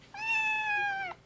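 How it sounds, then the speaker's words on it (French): A cat gives a single clear meow lasting about a second, close and fairly loud, with a rising start and falling end, alone with no talk. "C'est le chat de Monsieur Robin"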